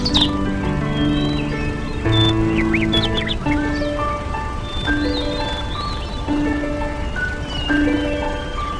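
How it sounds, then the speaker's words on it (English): Birds call and chirp along the newly fertile shores of Glacier Bay in Alaska, with scattered short tweets and trills over a steady, tonal background of music. "Birds are drawn to the newly fertile shores, where they can mate and feed."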